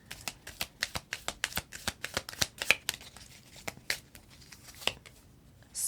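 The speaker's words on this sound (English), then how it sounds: "So let's pull 3 cards from the Romance Angels and see what the additional messages are." Romance Angels oracle cards are shuffled by hand, a quick run of crisp riffling slaps in an uneven rhythm, close and fairly quiet, easing off toward the end.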